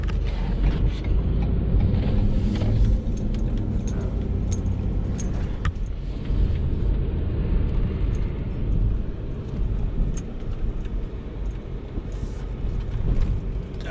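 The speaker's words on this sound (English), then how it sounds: "Of course, there's a car coming out." A car rolls out of an apartment building's parking lot during a light snowfall, its engine rumble and tire noise steady and fairly loud throughout, with keys jangling briefly at the start.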